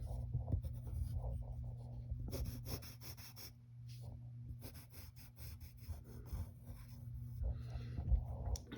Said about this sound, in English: Now we need to draw the rest of his body.